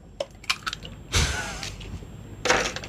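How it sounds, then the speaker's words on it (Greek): Eggs are cracked in a kitchen: two short, sharp cracks with a faint wet squish, separated by a pause, and no talking. "Τώρα σπάζεις αυγά, ναι."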